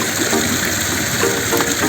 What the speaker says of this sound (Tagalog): babagsakan ng tubig.